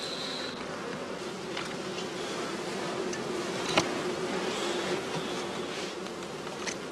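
Honey bees buzzing around traditional straw skep hives on a northern German heath, a dense continuous hum of many insects with individual bees droning past nearby, steady and outdoors with no talk.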